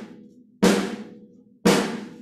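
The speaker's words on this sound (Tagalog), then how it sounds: "Malakas na tunog pero hindi tatama sa rim." A drum struck hard on the head without touching the rim, two loud single hits about a second apart, each ringing out and decaying with no talk over them.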